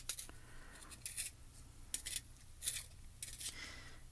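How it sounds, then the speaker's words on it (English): A soft colored pencil being turned in a small hand sharpener, producing short, quiet scraping bursts at irregular intervals over a faint low hum. "So you want to be very careful when you're sharpening them and to turn the sharpener, not the pencil."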